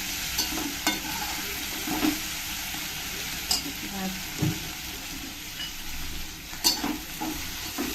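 Chopped onions browning in a pan in a home kitchen, a soft continuous sizzle broken by several scraping stirs of a spoon, with a quiet voice in the background.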